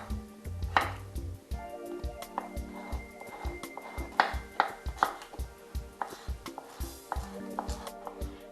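A knife chops salad ingredients on a cutting board in a home kitchen, sounding as a quick, irregular run of sharp taps close by, mixed with light clattering and background room sound.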